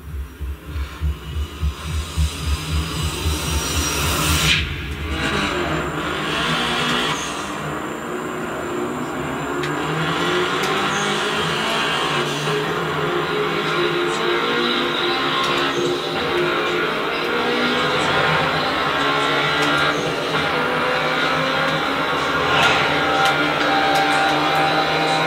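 Race cars drive through a nighttime street race in the Night Runners game, from Yume no Shiba Park to the Kiba tunnel. A continuous engine drone with a throbbing low rumble starts pulsing, then settles into a steady hum.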